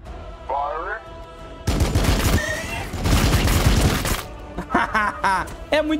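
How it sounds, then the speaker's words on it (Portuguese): Tank cannon and gunfire from the video game Warhammer 40k Battlesector rattle out in a loud, dense barrage of rapid shots, framed by brief game voice lines before and after. "vamos encher de tiro de tanque nesses bichos aqui"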